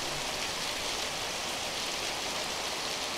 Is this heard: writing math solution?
no